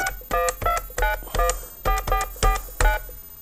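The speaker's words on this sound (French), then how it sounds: "Donc vous avez remarqué que vous aviez la tonalité, comme pour de la téléphonie fixe normale." A FixMob mobile box turning a landline handset mobile, heard over speakerphone as a string of about nine crisp, evenly spaced dialing tones in a steady rhythm, loud and close with no voices.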